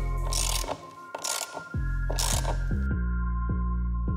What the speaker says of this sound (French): nous prenons une clé à cliquer avec un embout hexagonal et délicatement, surtout sans la pencher par rapport au plan, on la visse